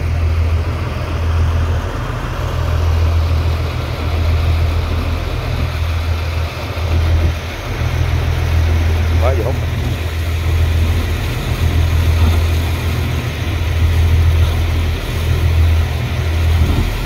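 A loud sand pump engine drones steadily at a low pitch by a small river, running continuously with a slight rhythmic pulsing throughout.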